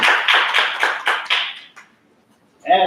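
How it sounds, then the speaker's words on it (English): A short burst of clapping for the judges at an AI agents hackathon awards event, several quick rhythmic claps that fade out within about two seconds, followed by a voice speaking. "Round of applause for our judges."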